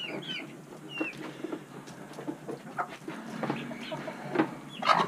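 A hen in a nest box gives soft, scattered clucks and low murmuring calls, close by in a quiet coop, with a few sharper squawks near the end.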